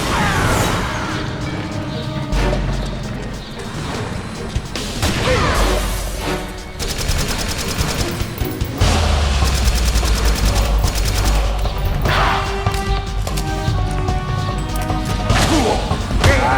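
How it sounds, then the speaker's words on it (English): Grenade launcher fire and heavy battle noise in Metal Gear Solid 4: Guns of the Patriots on PS3, a loud, dense barrage of booming blasts, thuds and rapid gunfire over a steady rumbling game soundtrack. "there's R2 to fire the grenade"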